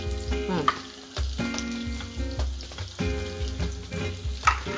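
Onions fry and brown in a hot pan with a continuous loud sizzle, stirred now and then, and a low hum running underneath.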